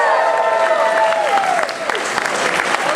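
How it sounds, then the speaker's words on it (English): Crowd applause with some cheering fills the hall at the Auto Assembly 2015 opening ceremony, steady and loud throughout, with a host's voice briefly audible over it. "So let's give him a big cheer, Nick Rush, everybody!"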